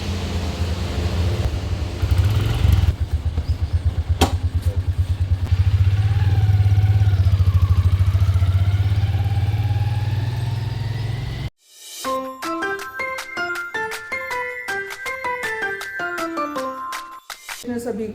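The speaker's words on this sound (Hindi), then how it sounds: "मैं अब घर जा रहा हूँ बिल्कुल नाना जी के स्कूटर के साथ" A grandfather's scooter engine runs steadily and fairly loud with a low droning hum for about eleven seconds, then cuts off abruptly and music takes over.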